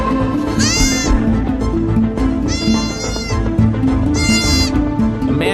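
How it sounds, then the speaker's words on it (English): Newborn baby goats in a goat barn let out three high, quivering bleats at steady intervals, loud and close over a constant background hum. "There are two newborn baby goats."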